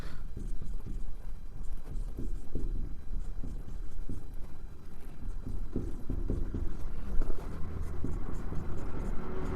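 A teacher writes a formula on a board during a Class 10 maths lesson, giving a series of close, scratchy strokes and taps that run steadily throughout.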